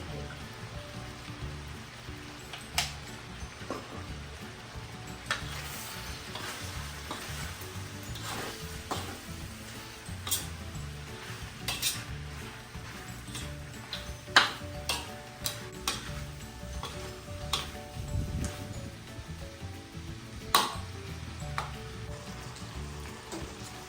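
Chicken stir fry sizzles softly in a pan, a low continuous crackle broken by scattered clicks and scrapes of stirring, fairly quiet with no voices.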